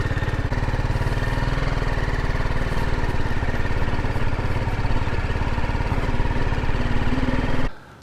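A BMW 310 GS motorcycle engine labors loudly and steadily while climbing a muddy, rocky hill, its close, throbbing drone holding for several seconds before cutting off sharply.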